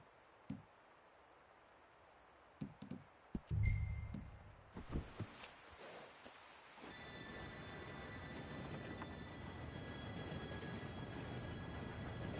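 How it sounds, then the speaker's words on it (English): In Red Dead Redemption 2, a few scattered clanks and knocks come first, then an approaching train builds into a steady, loud rolling rumble with a faint high whine over it. "Train should be here any minute now."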